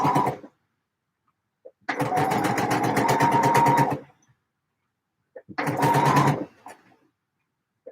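A sewing machine stitches a shirt in two bursts, one about two seconds long and a shorter one later, each with a fast, even mechanical rattle separated by silence.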